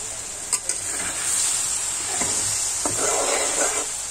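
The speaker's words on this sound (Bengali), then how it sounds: "এখন আমি মগজটাকে একটু নেড়ে নামিয়ে নিব।" Goat brain frying in oil rises as a loud, steady sizzle close by, with a utensil stirring through it and a few sharp clicks of metal against the pan.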